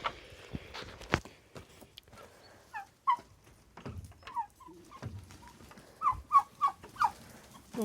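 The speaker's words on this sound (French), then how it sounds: "Alors les dindes." Turkeys on a farm during an evening round in August, giving several short nasal calls and a quick burst of gobble-like notes near the end, with footsteps and faint movement between the calls.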